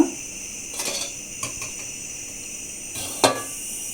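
A metal spoon scrapes and clinks against a hot, oiled pan while ingredients for paneer biryani are stirred, with sparse sharp taps over a steady background hiss and no talking.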